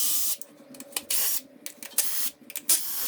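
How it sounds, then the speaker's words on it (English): Wrench or ratchet work removing four 10mm valve cover bolts on a Suzuki Samurai engine, a series of short bursts of metallic clicking and rasping, close and fairly quiet, separated by brief pauses. "take out the four 10mm bolts holding on the valve cover"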